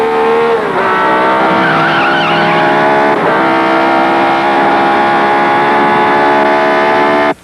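A race car driven hard, its engine roaring loud and steady while the tires squeal continuously across several seconds, then cutting off abruptly.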